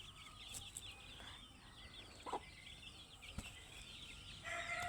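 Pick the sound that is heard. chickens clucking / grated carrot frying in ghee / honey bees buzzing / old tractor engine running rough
chickens clucking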